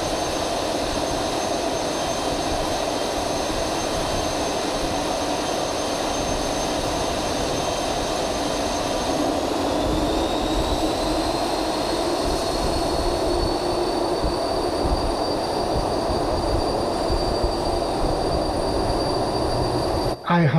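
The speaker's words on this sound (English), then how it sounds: "The igniters light the fuel, and then you're just waiting to get up to self-sustaining speed." Rolls-Royce Spey jet engine starting up on a test stand, a steady, loud roaring rush with a thin whine rising in pitch partway through as it spools toward self-sustaining speed, no talk.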